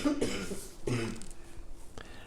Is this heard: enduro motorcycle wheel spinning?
no